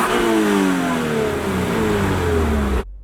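A 2022 Subaru BRZ sports car engine revs loudly up close, then pulls away as the pitch climbs and settles with a gear change. The sound cuts off abruptly near the end.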